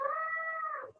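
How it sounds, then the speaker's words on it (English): A pet cat lets out one clear, sustained meow that fades away at the end, close and alone in a quiet room. "Oh, it's my kitty."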